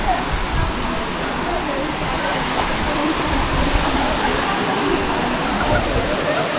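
Steady broadband rush of a waterfall on the Agasthyarkoodam trek, continuous and fairly loud throughout, with no clear voices standing out above the water.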